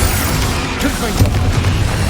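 Confringo spell blast in Hogwarts Legacy, a burst of booming explosions with sharp pops and crackling debris amid spell-casting noise in a busy duel.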